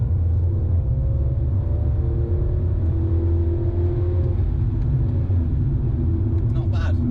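A Mini F56 John Cooper Works with a JB4 tune pulls hard after a downshift from about 50 mph, engine droning and rising steadily in pitch under a deep rumble, loud and close from inside the cabin.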